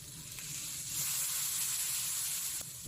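Cooking wine hitting hot pork ribs in a pan, a steady loud sizzle and hiss that holds for about three seconds, with no talking.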